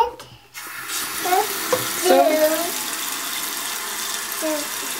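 Tap water runs steadily into a sink as a toddler washes her hands, a broadband wash that holds throughout while an adult's voice and brief child sounds come and go over it.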